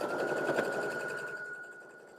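A sewing machine chain piecing quilt fabric in a home studio, running steadily with a continuous whirring stitch that holds for a couple of seconds, then fades slightly as it slows near the end.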